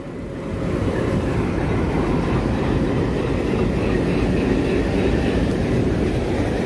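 A WDM-3A diesel locomotive hauling the Suratgarh–Sri Ganganagar passenger train gives a loud, steady, deep engine rumble with rolling rail noise, close and continuous throughout.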